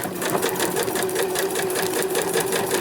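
A sewing machine stitches a fabric journal cover with a fast, steady mechanical whir and rapid needle ticks, running continuously and close.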